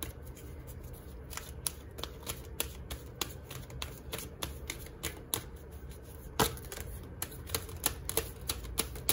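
Tarot cards being shuffled in quick, crisp riffling bursts, a steady run of close, sharp papery clicks with no talk over them.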